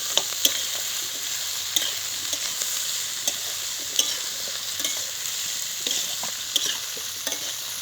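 Potatoes frying in oil in a pan, stirred with a spoon: a steady bright sizzle runs throughout, broken by sharp scrapes and clicks of the utensil against the pan every second or so, close and alone with no talk.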